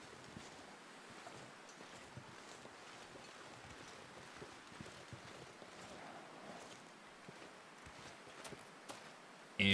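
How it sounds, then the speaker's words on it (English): Wind gusts steadily across a snowy landscape in the survival game The Long Dark, a continuous broadband whoosh with gentle swells, quiet and alone with no talking. "And as usual, the wind is blowing into my face, not against my back."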